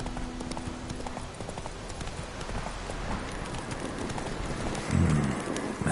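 Hooves of Roach, a horse in The Witcher 3 video game, clip-clop in a steady galloping rhythm throughout, close and moderately loud, with a brief whinny-like burst near the end.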